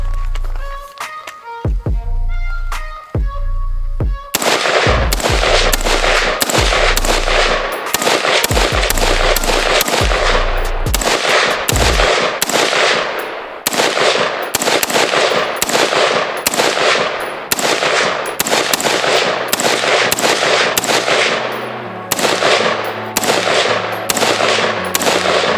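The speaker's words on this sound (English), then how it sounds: "First time shooting the Daniel Defense." A Daniel Defense rifle fires at a shooting range: a few spaced shots at first, then a long run of rapid, loud, sharp reports close by, with other shots and faint voices mixed in.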